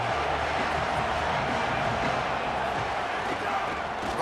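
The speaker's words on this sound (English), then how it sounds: "This crowd ready to make its presence known." A stadium crowd roars in the EA Sports College Football 27 video game, a dense, steady wall of noise with no breaks or peaks.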